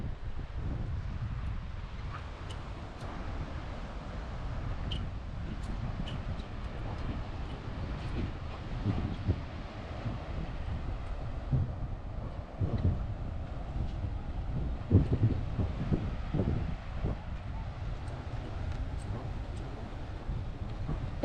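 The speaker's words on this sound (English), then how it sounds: "I think it's a little bit breezier, windier than yesterday" Steady wind buffeting the microphone at Huntington Beach State Park, a continuous low rumble with gusts swelling and dropping throughout, loud and close with no talk.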